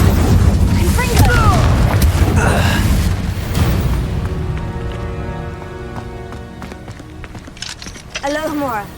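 A deep boom from a Confringo spell explosion in Hogwarts Legacy opens with a loud rumble that slowly fades over several seconds, with game sounds and a voice briefly heard.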